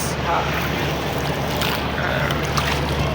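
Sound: large passenger launches on the Buriganga river

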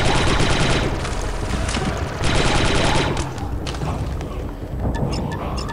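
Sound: fusion rifles firing in Star Wars: Republic Commando video game

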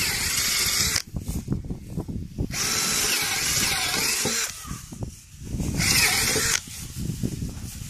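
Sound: drilling wood with a thicker drill bit

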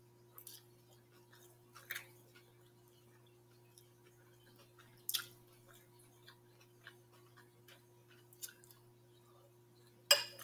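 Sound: chewing food

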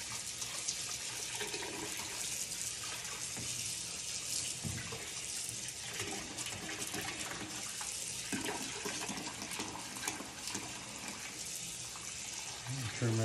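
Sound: cold tap water running while rinsing turkey breast

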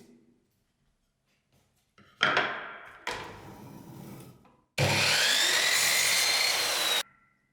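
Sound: saw cutting MDF baseboard

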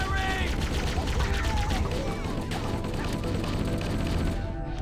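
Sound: gunner firing in video game Halo

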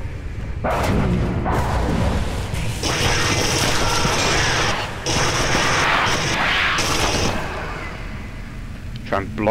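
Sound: gunfire in the video game Aliens vs Predator

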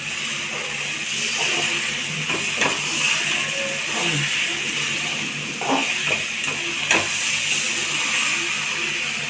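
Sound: stirring scrambled eggs (anda bhurji) sizzling in a pan

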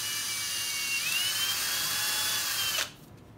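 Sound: electric drill making a hole in cork mount

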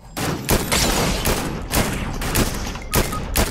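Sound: gunfire in Fortnite Battle Royale video game

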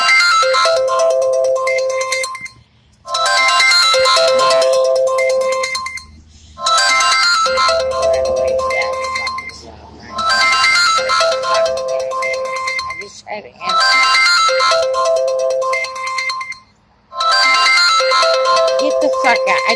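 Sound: phone ringtone ringing

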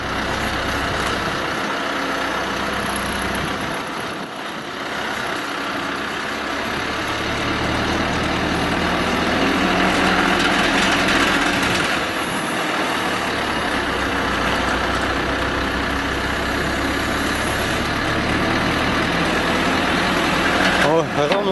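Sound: tow truck engine running while lifting a car

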